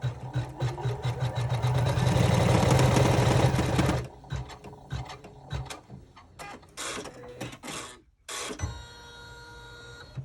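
An embroidery machine stitching a chevron braid clutch runs in a fast, even mechanical chatter for about four seconds, then breaks into intermittent whirs, clicks and short bursts of movement, close by with no talking.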